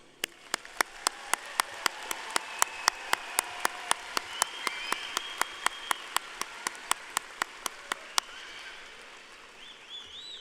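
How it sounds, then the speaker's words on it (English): Students at a Palo Alto College spring commencement ceremony receive a steady wash of audience applause, quiet and somewhat distant, with a few sharp, regularly spaced claps cutting through it for about ten seconds. "Please join me in a round of applause for our students"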